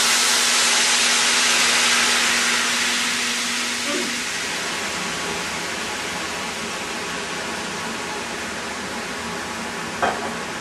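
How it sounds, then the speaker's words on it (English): A loud, hissing sizzle of liquid hitting a hot pan bursts out, then slowly settles into a steady, softer steam hiss. "I'm going to go ahead and deglaze my first pan"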